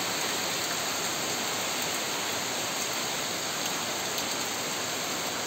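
Heavy rain from Cyclone Remal falls at dawn, a dense, unbroken hiss that holds steady and loud throughout with no voices.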